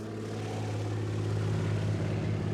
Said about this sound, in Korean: 마침 여행객들을 실은 비행기 한 대가 하늘로 날아오른다